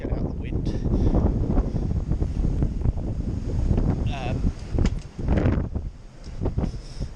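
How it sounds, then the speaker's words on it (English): Wind buffeting a microphone out in an open field where spring barley is being drilled, a continuous loud rumbling roar with gusty swells, and someone talking through it. "I'll just get out of the wind."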